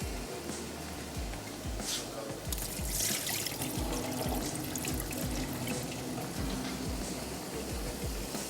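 Soaked rice poured into a pot of water while making Sahrangi biryani, a running, trickling splash with bubbling water and soft knocks, fairly close and steady with no talk over it.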